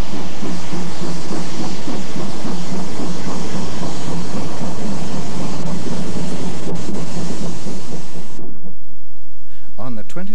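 Locomotive 73169 hauls a train westward, a loud, close, continuous rumble with rhythmic rail clatter and hiss that fades out near the end, followed by a brief quieter tail.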